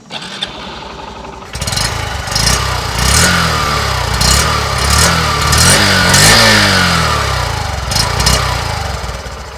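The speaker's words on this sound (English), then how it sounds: "So that is what the motorcycle sounds like." Honda Shine 100 motorcycle engine started with a silent starter and left idling, a steady close putter with a few light revs and no talk.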